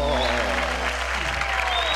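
A studio audience claps after a cumbia number on a variety show, a continuous, moderately loud patter of many hands over a steady low hum, with faint voices underneath.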